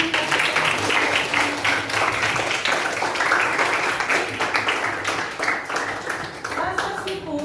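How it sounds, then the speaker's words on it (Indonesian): A class of students claps hands in a sustained, dense round of applause that stays steady for several seconds, with a faint voice underneath. "Iya, tepuk tangan."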